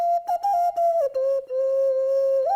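A single whistle plays a wavering melody of sustained tones, broken by short gaps and pitch slides, close and clear with no other sounds.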